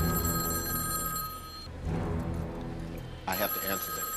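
A payphone bell rings loudly in a steady trill in the film Die Hard with a Vengeance, cuts off briefly, then rings again under background street noise.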